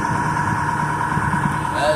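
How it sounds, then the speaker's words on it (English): A motorboat with masts motors along the Intracoastal Waterway, its engine a steady, continuous drone close by, with talk over it. "the motorboat with masts"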